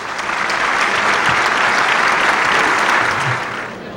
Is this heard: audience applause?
yes